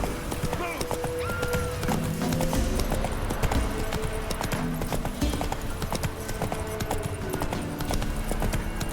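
Hooves of Roach, the horse in The Witcher 3, pound in a fast, close gallop under game music, with spoken dialogue over the hoofbeats.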